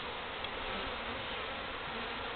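Honey bees from a feral hive cut-out buzz continuously around the comb, a steady dense drone close to the microphone with no talking.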